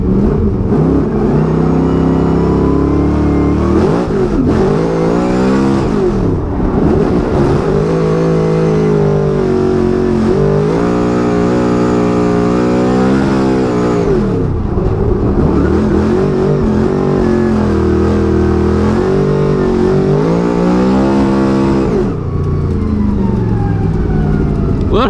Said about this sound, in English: now I know how high I can rev this thing